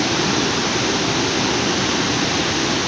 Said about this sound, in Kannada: ಇದೊಂದು ತುಂಬ ಅದ್ಭುತವಾದ ಹಾಗೆ ಸುಂದರವಾದ ಒಂದು ಜಲಪಾತ.